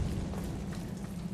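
A Confringo fire-blast spell explodes in the video game Hogwarts Legacy, a dense, sustained low rumbling roar of flame and blast that fills the moment loudly without any clear individual hits.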